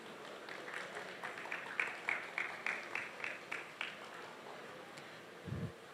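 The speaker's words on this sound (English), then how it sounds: "A round of applause, please." Applause for a session moderator at a conference panel on Africa's gig economy, a moderate spread of clapping with a few louder claps standing out, fading toward the end.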